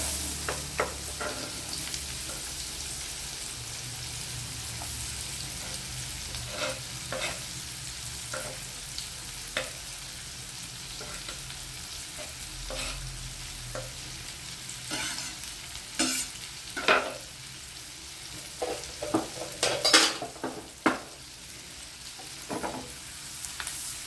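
Onion frying in a pan for a paneer dish, a continuous quiet sizzle broken by scattered scrapes and clacks of stirring, growing busier and louder near the end, no talking.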